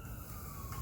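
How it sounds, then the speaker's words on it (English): A police siren sounds faintly in the distance, a thin steady wail over low background rumble for under a second. "He just heard a police siren."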